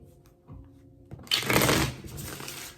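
Tarot cards are riffled and shuffled close by, a quick burst of papery flutter after a few soft handling taps.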